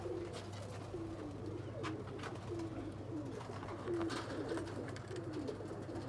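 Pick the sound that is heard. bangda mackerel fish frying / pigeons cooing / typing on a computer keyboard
pigeons cooing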